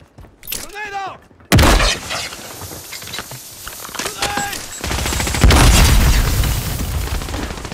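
A grenade detonates in a first-person shooter video game amid loud gunfire, with a heavy boom followed by sustained rumbling blasts and rattling shots up close, while voices talk over the combat.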